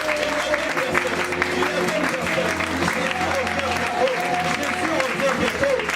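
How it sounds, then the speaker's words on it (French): A church congregation applauds during worship, a steady wash of clapping mixed with crowd noise and sustained tones underneath, with voices present throughout. "applaudissons le Seigneur"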